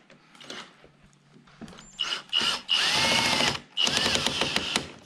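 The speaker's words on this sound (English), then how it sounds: "going to take those screws out" Screws come out of a spoiler on a C7 Corvette with a cordless power driver in several short whirring bursts, separated by small clicks and handling noises, up close.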